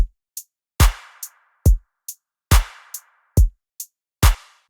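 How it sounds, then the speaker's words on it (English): An electronic drum loop repeats in a steady groove: deep kick hits alternate with sharp stacked claps, and short, crisp hi-hat ticks fall between them. "just a kick, a couple claps stacked together and a very simple hi-hat for now"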